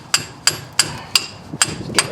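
A hammer strikes a 2003 Chevrolet Impala control arm ball joint about six times in a steady rhythm, each blow a sharp, close metallic clank with a quick decay.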